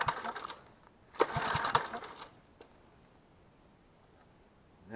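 Predator 212cc engine swapped into a Motovox MBX10 mini bike revs hard in two short bursts, the second longer and louder, then drops to a faint near-idle with a thin steady whine.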